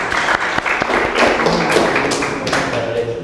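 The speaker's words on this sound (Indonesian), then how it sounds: "Kita berikan aplaus." A classroom of students applauding a student group after its presentation, a dense burst of clapping with scattered taps and thumps, close and steady throughout, with voices mixed in underneath.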